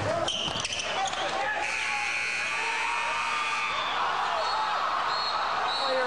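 A basketball thumps on a college court, then an electronic buzzer sounds loudly and holds for several seconds over crowd noise and an announcer's voice.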